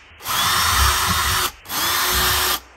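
Power drill boring screw holes with a slightly larger bit while fitting cooling fans for a games console: two close, loud bursts of steady motor whine, each about a second long, separated by a short pause, with no talk.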